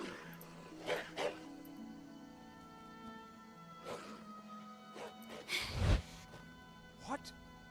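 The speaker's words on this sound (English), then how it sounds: "Look, a little doggy" A small dog barks in modded Skyrim, a few short yips and woofs scattered across several seconds, set against a game soundscape with ambient tones.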